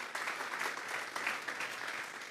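Steady applause from a church congregation, dense and continuous throughout.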